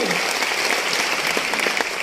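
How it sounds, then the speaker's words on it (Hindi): Loud, dense applause from a crowd at a motivational speech event, continuous clapping filling the whole moment with no pause. "उनके लिए जोरदार तालियां"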